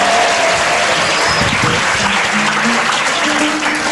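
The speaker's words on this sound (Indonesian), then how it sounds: "Tepuk tangannya buat Faisal." An audience applauds Faisal at an Islamic religious gathering, a loud, dense burst of clapping from many hands, continuous and even throughout the short stretch.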